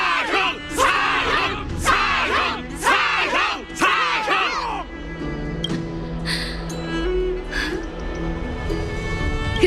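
A crowd roars and cheers in Honkai: Star Rail, with bursts of massed voices in the first five seconds that fade into a lower, sustained murmur under tonal game music.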